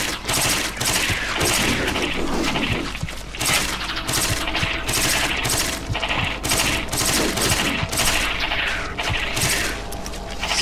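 Rapid bursts of weapon gunfire from the Resident Evil: The Darkside Chronicles video game, loud and continuous with repeated volleys and shot impacts over game noise for the whole stretch.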